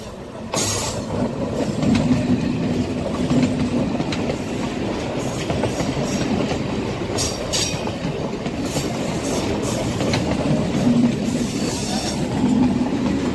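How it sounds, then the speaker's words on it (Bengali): A Kolkata Circular Rail train from Dum Dum rumbles past below, its wheels beating a steady clickety-clack that stays loud and close throughout with faint squeals over the top. "আর নিচ দিয়ে যে ট্রেনটা আসছে ওটা দমদম থেকে এলো"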